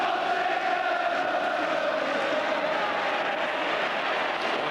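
A large football crowd roars in a steady, dense wash of cheering at a 1990 First Division match between Nottingham Forest and Liverpool. The sound holds loud and unbroken throughout with no clear breaks.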